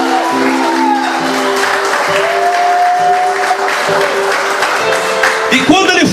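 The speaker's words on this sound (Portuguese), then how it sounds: "Você pode dar um aplauso ao Senhor Jesus?" An audience in a church service applauds steadily for several seconds, a dense wash of clapping with some sustained tones underneath and a brief rise near the end.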